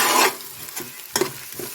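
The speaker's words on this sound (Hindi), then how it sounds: "तो आलू फ्राई करें इसी तरह," Potatoes frying with whole spices for aloo gosht, a burst of loud sizzling followed by a few close scraping stirs over a lower crackle.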